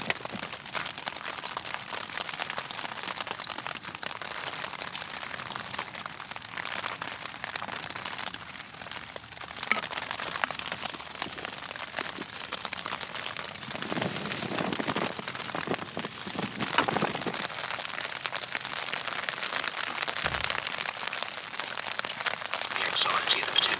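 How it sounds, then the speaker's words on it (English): Heavy rain pounds steadily and loudly on a camping cabin at night, a dense, continuous roar with no letup. "The rain's smashing it down"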